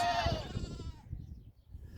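Goats bleat in a short burst of wavering, nasal cries up close, then trail off into quieter shuffling and rustling.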